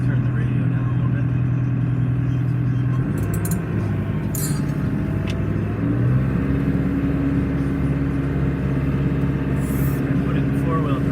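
A farm tractor's engine is throttled up while moving manure, a steady loud low rumble whose pitch rises and shifts as it revs, running continuously throughout with some talk over it.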